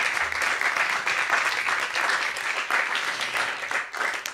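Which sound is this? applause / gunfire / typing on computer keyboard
applause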